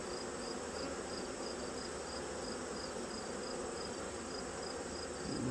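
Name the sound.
honey bees buzzing in hive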